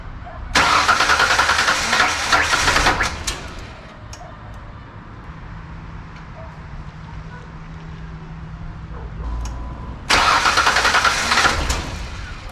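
A rebuilt 4.0 Ford Ranger engine cranks loudly in two bursts, about three seconds each, with a quieter stretch between where a low steady hum carries on; it turns over without catching.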